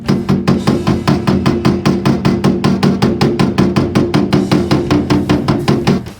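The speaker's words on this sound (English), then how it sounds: "Lock the handles and hammer out the plastic distortion area." Rapid, even hammer blows on a car roof panel hammering out a dent, about five per second, loud and close, with a sharp ringing knock on each strike and no talk.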